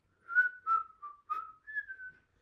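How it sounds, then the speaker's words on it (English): A person whistles a short tune alone, six clear notes in quick succession over about two seconds, close and moderately loud against silence. "But also when we whistle,"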